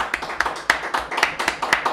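Scattered hands clapping for Mr. González, a small audience giving uneven, separate claps at a moderate level for about two seconds.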